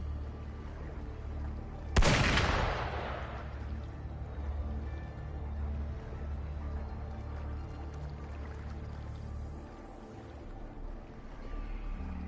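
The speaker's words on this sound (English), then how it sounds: "Gunfire! We've got intruders." A single sharp gunshot-like blast cracks out in the Wuthering Waves game world and decays quickly, leaving a steady low ambient rumble with no voices.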